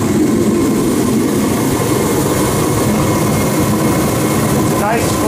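A Ready Heater 170T forced-air kerosene heater running, a loud steady roar of fan and burner with a low rumble throughout.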